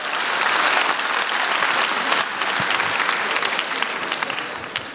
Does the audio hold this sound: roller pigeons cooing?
no